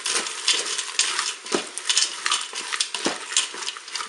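A spoon scrapes and clinks in a pot while farfalle pasta and tomatoes are stirred together, giving a close run of irregular metallic taps and scrapes with no talking.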